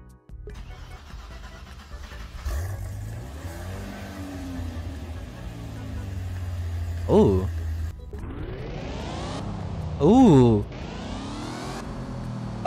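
In a driving video game, a Zenvo TS1 GT supercar engine starts and idles with a deep rumble, then revs sharply in a couple of rising bursts; a voice exclaims briefly between them.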